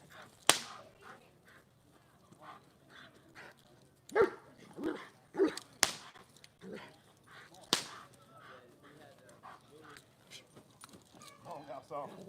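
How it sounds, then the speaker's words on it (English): A dog barks and yips in sharp bursts during an evening training session, with sharp whip-like cracks and a handler talking and calling over the action. "You notice Jamil's working forward with this dog"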